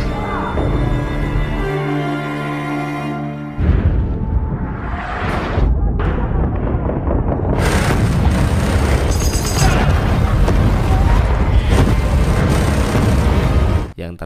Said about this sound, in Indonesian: tiba-tiba sebuah ledakan hebat terjadi